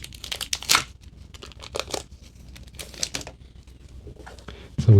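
Kinfire Chronicles: Night's Fall board game card deck being unwrapped: crinkling, tearing plastic wrap in short bursts, close and fairly quiet, ending with a louder rustle.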